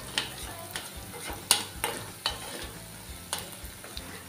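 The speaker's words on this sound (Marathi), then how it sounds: "1-2 मिनिटं असं मी व्यवस्थित परतवून घेते।" Ground masala paste for tamarind curry sautés in hot oil, giving a continuous sizzle and frying hiss with repeated scraping strokes from stirring, fairly close.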